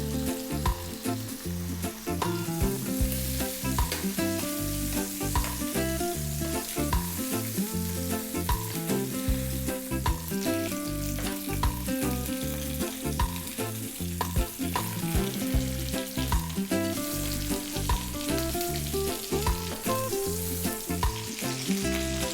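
Chicken pieces frying in a pan over medium heat, a continuous close crackling sizzle that holds steady throughout with no one talking, over a constant background tone that persists under the frying.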